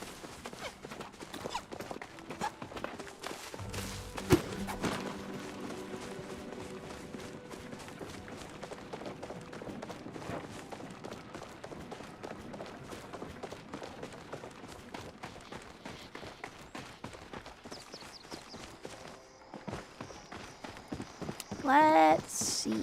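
Horse hooves clip-clop in the video game Palia, a quick, steady run of light clops under a chatty voice and game sounds, ending in a brief chime.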